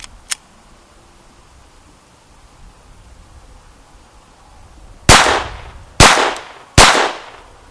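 A Smith and Wesson M&P 22 pistol fires one sharp crack, then after a pause three loud, close shots in quick succession, each ringing out briefly in open air.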